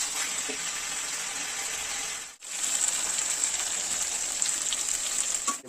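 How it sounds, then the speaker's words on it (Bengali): Chicken meat frying in a pan for chicken kosha, a steady loud hiss and sizzle throughout with a brief dip midway. "তো মাংস দিয়ে দিলাম, মাংসগুলোকে আমি একটু কষিয়ে নিই।"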